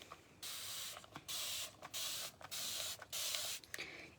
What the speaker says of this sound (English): So now we're going to spritz it again.